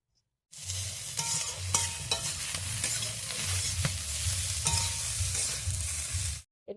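Vegetables for Bengali shukto are stirred in a pan with a little turmeric, a spoon scraping and clacking steadily against the metal over a continuous close sizzle of frying, lasting several seconds and then stopping abruptly.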